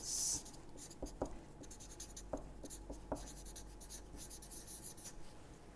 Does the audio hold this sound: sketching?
yes